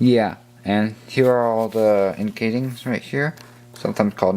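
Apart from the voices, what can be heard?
No everyday noise stands out behind the speech.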